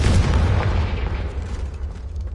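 A Confringo blasting spell goes off in the Hogwarts Legacy video game, a loud booming explosion that hits hard at the start and then fades into a rumbling decay over a couple of seconds, with no talk.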